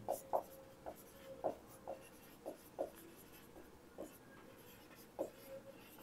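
Pen strokes on paper as notes are written during a physics lesson: quiet, close scratches in short bursts, roughly a dozen uneven strokes with brief pauses between them and no talk over them.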